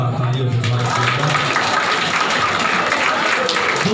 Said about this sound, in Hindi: हमारे प्रिंसिपल हैं, उसका तालियों से स्वागत करें